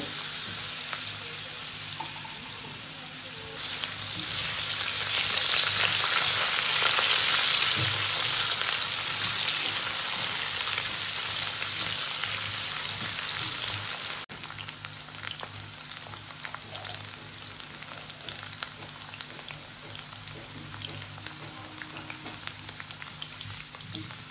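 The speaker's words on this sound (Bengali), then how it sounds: "আলু কটাকে আর একটু ভেজে নেব।" Potatoes fry in oil in a pan for a fish-head curry, giving a continuous close sizzle that swells louder in the middle and then settles back, alone without talk.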